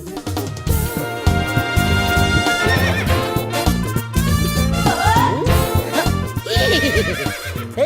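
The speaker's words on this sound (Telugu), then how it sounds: "ఎవడన్నా గుర్రం ఎక్కుతాడు, వీడేంటో గుర్రాన్ని ఎక్కించుకున్నాడు." A horse neighs in a Telugu comedy film scene, its whinny set inside loud, busy background music that runs the whole way through.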